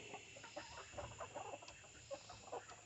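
Chickens cluck softly and repeatedly while settling onto a roost in the evening, a gentle irregular murmur of low calls over a steady faint background hum.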